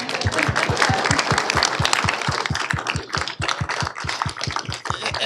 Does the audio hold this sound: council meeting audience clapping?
yes